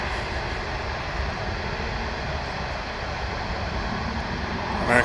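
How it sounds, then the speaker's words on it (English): An American Airlines jet bound for San Diego takes off at Dallas/Fort Worth International Airport, producing a loud, constant engine roar that builds slightly toward the end of the clip with no voices over it. "American Flight 1955 off to San Diego, California."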